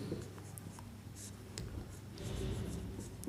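Chalk or marker scratches and taps on a classroom board while a class 10 maths age problem is worked out, short strokes and ticks, fairly faint with room hiss, no talking.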